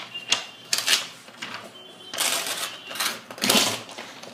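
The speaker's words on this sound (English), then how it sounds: "So you just find a page and tear it." A magazine page being torn by hand for a rolled-paper wand craft, heard as several close, broadband ripping bursts of varying length, some short and sharp, others drawn out, with brief pauses between them.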